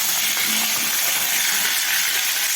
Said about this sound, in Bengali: এই যে গরম তেলে 5 ফোড়ন দিয়ে আলু বেগুনটাই ভেজে নেবো